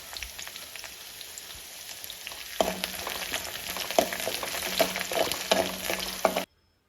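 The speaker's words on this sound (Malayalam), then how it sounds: "എടുത്തു വച്ചിരിക്കുന്ന ഇഞ്ചി വെളുത്തുള്ളി പച്ചമുളക് കറിവേപ്പില എന്നിവ നന്നായിട്ട് മൂപ്പിച്ചെടുക്കാവുന്നതാണ്" Ginger, garlic, green chili and curry leaves frying in hot oil for a star fruit pickle, a soft steady sizzle that grows louder and crackly midway, with occasional stirring clinks, then stops abruptly.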